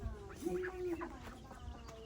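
Large farm chickens make a drawn-out cluck and some softer calls nearby, heard faintly amid outdoor background noise.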